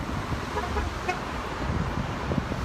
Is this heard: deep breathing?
no